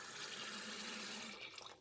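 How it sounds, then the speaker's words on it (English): Water runs steadily into a bowl to rinse clams in a kitchen, a continuous soft splashing pour, faint and unbroken, with no talk. "So how we are gonna do that is by adding some water"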